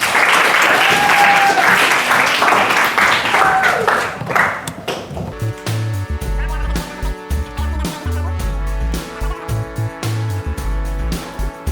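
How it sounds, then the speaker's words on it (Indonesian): A classroom audience in an introductory coding lesson claps together in a dense burst of applause for several seconds, after which a bass-heavy music track takes over. "silakan tepuk tangan untuk Anda semua"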